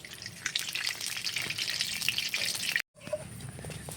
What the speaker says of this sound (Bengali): কড়া গরম হয়ে গেছে, কড়াইতে দিয়ে দেবো সাদা তেল।